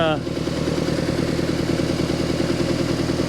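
A 1976 Mercruiser 120hp boat engine on a Mark Twain runs steadily on its carburetor, with a low rhythmic idle and clattering pulses that are loud and close.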